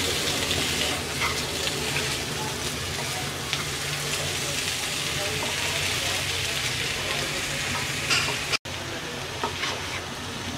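Potato and taro curry sizzles and fries in a pan while being stirred, a steady crackling hiss throughout at moderate level, with occasional scraping from the spoon.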